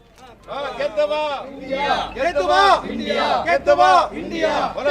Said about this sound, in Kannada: ಭಾರತದ ಪರ ಜೈಕಾರ ಕೂಗಿ ಗೆಲುವಿಗೆ ಪ್ರಾರ್ಥಿಸಿದ್ದಾರೆ